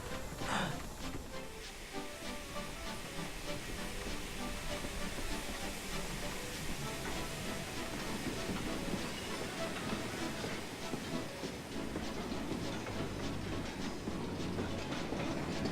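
A steam locomotive with leaking valves rumbles steadily along with hissing and rhythmic clatter throughout, a continuous mechanical chugging at moderate distance, as it slows.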